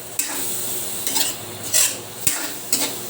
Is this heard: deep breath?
no